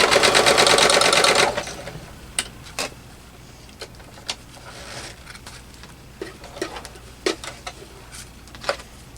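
A sewing machine runs in a quick burst of rapid, rattling stitches, then stops, followed by scattered light clicks and taps close by, alone with no talk.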